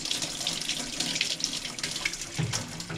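Tap water running into a paint shop sink while paint brushes are rinsed out, a steady splashing hiss with small bursts and clunks as the brushes are worked under the stream, no talk.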